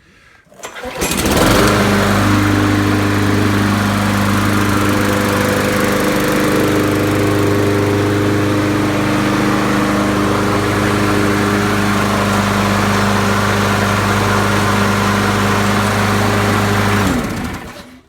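A 2007 Troy-Bilt lawn mower with a 6.5 horsepower engine starts up and runs at a loud, steady drone close by, holding a constant pitch for about fifteen seconds before cutting off abruptly, with no voices.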